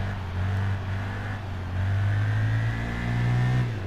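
A motorcycle engine in the Tourist Trophy racing game revs up and holds a steady drone as the rear tire spins, loud and close with rising pitch sweeps and no voices.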